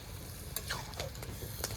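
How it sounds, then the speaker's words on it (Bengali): Marinated chicken is stirred into tempered spices and lightly fried onions in a pan for chicken kosha, giving a faint, quiet sizzle with a few light scraping clicks. "এবার মাখানো মাংসগুলো ঢেলে দেবো ফোড়নের সাথে মাংসগুলো ভালোভাবে মিশিয়ে দিই"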